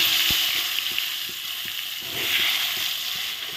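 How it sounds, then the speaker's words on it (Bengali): Pointed gourds hitting hot oil seasoned with turmeric give a steady, close sizzle and frying hiss that runs throughout, with a few soft clicks of the pieces landing in the pan. "তেলে একটু হলুদটা দিয়ে আমি এখন পটলগুলো দিই।"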